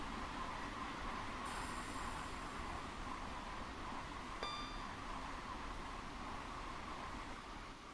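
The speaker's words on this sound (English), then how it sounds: "A couple of trains here." Trains in Train Sim World roll past on the lines near Reading on the route to London, a faint, steady rumble and hiss of passing rail traffic with a brief metallic squeal partway through.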